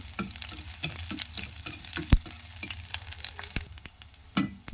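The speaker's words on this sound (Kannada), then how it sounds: "ಸಿಪ್ಪೆ ಸಮೇತವಾಗಿ ಜಜ್ಜಿರುವಂಥ ಬೆಳ್ಳುಳ್ಳಿನ ಹಾಕ್ಕೊಳ್ತಾ ಇದ್ದೀನಿ ಇದನ್ನು ಸ್ವಲ್ಪ ಬಾಡಿಸ್ಕೋಬೇಕು" Crushed garlic cloves with their skins frying in oil, a soft continuous sizzle punctuated by repeated scraping and stirring knocks of a spoon against the pan, with no voices.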